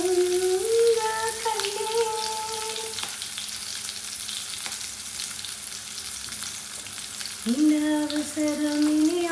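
Green chillies and shallots sizzle steadily in a hot pan, with occasional soft scrapes from stirring. A faint background voice or tone rises and falls at the start and again near the end.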